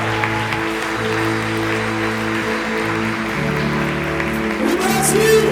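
A church congregation at a conference applauds steadily under music with sustained keyboard tones, the clapping blending into the musical backing throughout.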